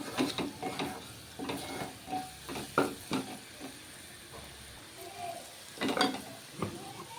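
A spoon scrapes and stirs through thick chili masala for egg curry in a pan with soft sizzling, in irregular bursts of clinking strokes, close up, with no talking.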